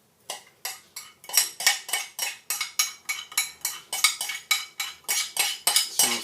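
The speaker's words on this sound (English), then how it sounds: "now your large bowl, recommend a spatula, and we're going to mix all of this together" A spatula mixes almond butter slab ingredients in a large bowl, about two dozen quick, even scraping strokes in a steady rhythm, close and fairly loud, with no one talking.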